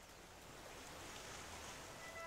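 A steady, faint rush of falling water from a waterfall in the video game Uncharted: Drake's Fortune, a continuous hiss without distinct splashes.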